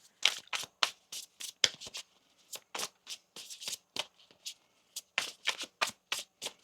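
Rapid bursts of tarot cards being shuffled close up, riffling in quick clusters with short pauses between, no voices.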